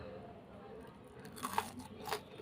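Someone bites into a crunchy homemade torta (omelette), giving two or three crisp crunches near the end after a quiet, faintly noisy start.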